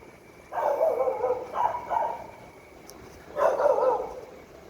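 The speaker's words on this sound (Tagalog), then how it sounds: "sana wag ako habulin ng mga aso dito." Dogs bark outdoors along a road during a fixie bike ride, a couple of bursts of barking at moderate distance with a pause between them.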